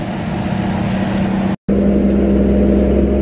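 A 1966 Chevrolet C10 pickup engine idles steadily on a freshly fitted remanufactured Carter YF carburetor, a loud, close, even rumble with a strong low hum, briefly cut off by a silent gap partway through.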